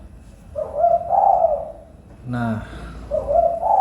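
Spotted doves (tekukur) kept as hobby songbirds coo in repeated low, mellow phrases, a pair of rounded calls then a pause, close and clear, with a brief spoken interjection from a man in the middle.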